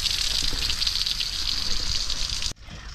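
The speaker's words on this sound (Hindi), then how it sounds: "बोरे खेत में पानी भरना है तो पाइप भी लगा दिया है" Water gushes steadily from a pipe into a potato farm field's furrows, a loud continuous rushing close by for most of the stretch before it suddenly drops off near the end.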